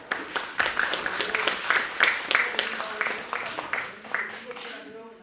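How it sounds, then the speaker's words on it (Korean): Applause from an audience at a forum during a village school festival, a moderate round of clapping with distinct hand claps that build and then fade out over several seconds. "박수 한번 부탁드리겠습니다"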